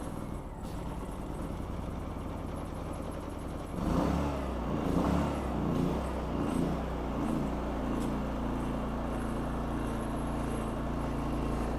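WEN 56380i 3800-watt inverter generator running, a steady close engine drone with a low hum that shifts up in pitch and load partway through, then settles.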